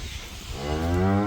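A cow on a farm gives a single loud, close moo that swells and holds to the end, with no other sound around it.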